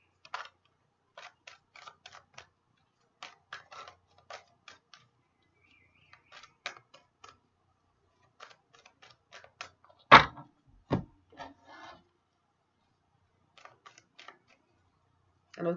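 Reading cards being shuffled, a scattered run of light papery ticks and flutters with one louder snap near the middle, close by and without any voices.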